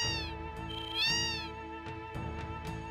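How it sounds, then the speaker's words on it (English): Several cats meow in a Final Fantasy 7 game scene, a run of clear, fairly loud, drawn-out meows, some rising and falling, heard alone with no talk over them. "Oh my gosh, look at all the cats!"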